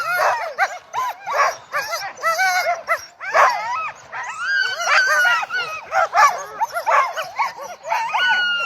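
Alaskan husky sled dogs at the start of a race, barking, yipping and whining in a loud, overlapping chorus of many animals close by, with excited cries coming in rapid bursts throughout.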